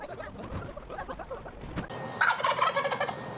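Dinosaurs in the Prehistoric Park video game give repeated clucking, gobbling calls like chickens or turkeys, a busy flurry of fowl-like squawks growing louder toward the end over low game background noise.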